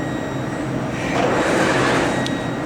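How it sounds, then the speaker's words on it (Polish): Warsaw metro train at Stadion Narodowy station running onto a siding track: a steady, close rumble of wheels and motors that swells slightly midway, with a brief faint squeal near the end. "Będzie przejazd na odstawczy tor."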